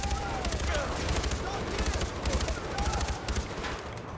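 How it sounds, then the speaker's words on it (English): Sustained automatic gunfire in the video game Far Cry 4, a steady rattling burst emptying a whole magazine, with loud game combat sounds throughout and voices talking over it. "Fired like an entire clip into the bloody thing."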